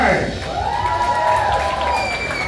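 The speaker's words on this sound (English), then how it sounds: "Let's hear it again for Denzo." A comedy club crowd claps and cheers loudly and steadily after a stand-up act, with whoops rising over the applause and a host's voice speaking over the noise.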